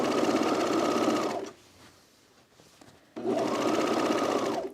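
Serger running on a Sydney dress seam in two loud, steady bursts of rapid mechanical whirring, separated by a quiet pause of about two seconds.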